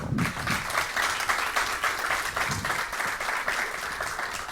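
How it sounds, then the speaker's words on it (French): An audience applauds reserve team members at a school quiz competition between high schools, with continuous, moderately loud clapping from a crowd in a hall, holding a steady level with slight swells. "Mesdames et messieurs, je vous demande de les applaudir."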